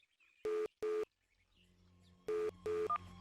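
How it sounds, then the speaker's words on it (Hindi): Four short, clear electronic beeps of telephone dialing come in two pairs, with a faint hum underneath. "मैं तुम्हारे को अभी फोन कर रहा हूँ"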